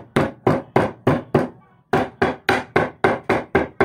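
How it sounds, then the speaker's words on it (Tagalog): Lemongrass stalks being pounded to release their juice, a run of about twelve evenly spaced heavy thuds with one short pause partway through, close and loud, with no voices. "kailangan pukpukin pala yung tanglad para lumabas yung katas"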